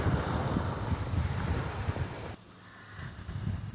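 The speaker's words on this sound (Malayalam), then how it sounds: "രണ്ട് കടലുകൾ തമ്മിൽ ചേരുന്ന ഭാഗമായത്, രണ്ട് ദിക്കിലുള്ള കടൽ." Sea waves and wind at the meeting point of two seas off Kudagiri Island in the Maldives, a steady close rushing wash with wind buffeting, briefly dropping and then swelling again.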